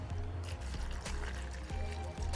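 Antifreeze glugs and trickles steadily through a funnel with a narrow neck into the return lines of an in-ground vinyl pool, a close, continuous liquid pour with faint bubbling and no talking.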